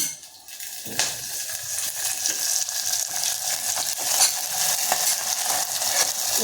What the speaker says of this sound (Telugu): ఇక తాలింపుకి ఇంటి వేస్తాను.